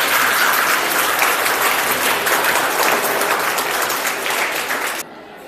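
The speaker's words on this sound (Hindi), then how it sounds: "माता पिता जो हैं उनके लिए तालियां बजाइए" A school audience at a cultural program claps steadily for parents, a dense, continuous crowd applause lasting about five seconds before cutting off abruptly.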